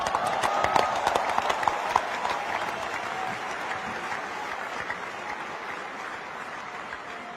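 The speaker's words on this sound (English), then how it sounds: "Before you start clapping" A large stadium crowd at a cricket ground applauds Sachin Tendulkar after his farewell speech, dense sustained clapping with some sharp nearby claps early on that slowly tapers off over several seconds.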